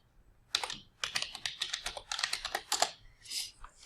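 Typing on a computer keyboard to search a web store, a quick run of close, crisp key clicks in bursts with short pauses, no talking.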